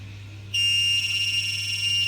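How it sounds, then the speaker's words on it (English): An electronic alarm buzzer from a Python alarm clock project switches on abruptly and holds a steady, shrill, continuous tone over a low background hum, with no talking. "my buzzer is sounding"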